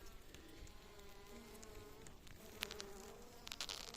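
Honeybees hum steadily in a hive being prepared for winter, a soft continuous buzz, quiet and close, with occasional faint clicks and knocks over it.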